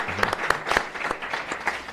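Audience applauding at a book presentation, a short burst of scattered hand claps with uneven rhythm, fairly close and moderately loud, with no voices over it.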